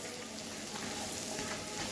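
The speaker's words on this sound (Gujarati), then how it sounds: "લસણ અને લીલા મરચાંને પણ તમારે 1 થી 2 મિનિટ માટે સાતરી લેવાનું" Garlic and green chillies sauté over low heat in a pan for restaurant-style paneer butter masala, giving a steady, close, even sizzle that runs without a break and carries no voices.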